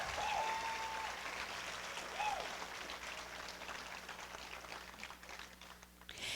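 An audience at a 2019 Strawberry Festival Queen pageant applauds the contestants, a sustained wash of clapping from a crowd that thins slightly toward the end, with a faint voice and a few whistles mixed in.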